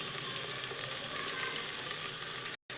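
Masala rice with turmeric, salt and a spoonful of curd sautéing in a hot pan, a steady close sizzle and fry with a faint stirring scrape, cut briefly near the end.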